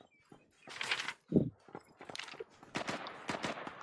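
Bursts of PUBG (Battlegrounds) gunfire in a Last Man Standing match, with quick, sharp shots crackling in clusters under brief voices talking.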